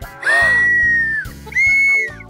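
A whistle blows twice in a Romanian children's cartoon. Each blast is a long, loud, shrill tone over a bouncy musical backing, and a short gap separates the two.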